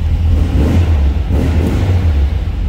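A 1970 Volkswagen Karmann Ghia engine runs close by with a steady, loud low rumble that swells and eases slightly as it is revved.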